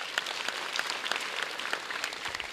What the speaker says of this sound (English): Let us clap for this.